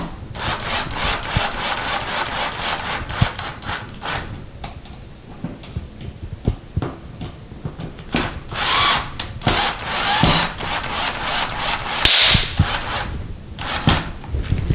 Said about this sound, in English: I am going to partially tighten it with the electric